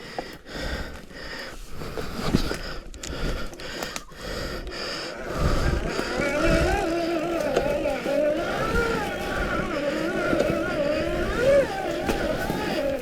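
An Electric Motion Escape X electric enduro motorcycle rides hard terrain in Hawaii, giving a steady close whine and rumble with bursts as throttle rises, panting breath and rustle over it, no speech.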